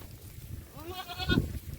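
A single goat bleats on a farm, a clear wavering cry rising near the end, fairly close against a low background rumble.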